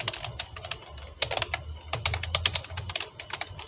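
Steady, fairly fast clicking of keys on a computer keyboard while C++ code is typed, close and clear with uneven rhythm and brief pauses between bursts.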